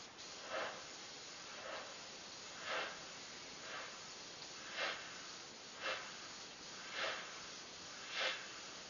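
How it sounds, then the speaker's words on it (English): Airbrush spraying paint on a skull design, quiet hissy puffs in short regular bursts about once a second, close and faint with a steady background hiss. "Just going to play with the airbrush"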